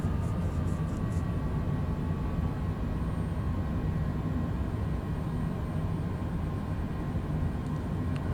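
Cessna Citation Longitude business jet landing at Stillwater, Oklahoma in gusty wind, heard from the cockpit as a steady, loud broadband roar of engine and airflow with no break.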